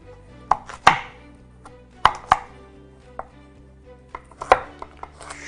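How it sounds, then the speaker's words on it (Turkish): A knife chops on a cutting board in sharp, irregular strokes, some in quick pairs, with quiet pauses between. "Önce şunları doğrayayım."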